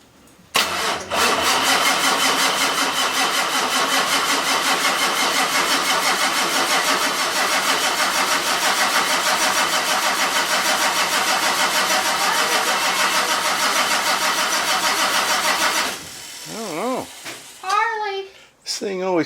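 A 1946 Ford engine being cranked with a booster, a loud continuous grinding churn of the starter for about fifteen seconds before cutting off, followed by someone speaking.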